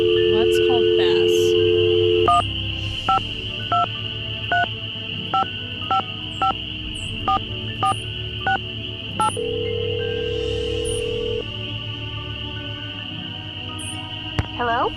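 A phone number being keyed on a telephone in the Ghost Dogs of Moon Lake game: a tone sounds, then about eight evenly paced touch-tone beeps follow, then a steady dial tone, all over a constant background hum.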